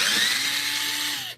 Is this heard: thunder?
no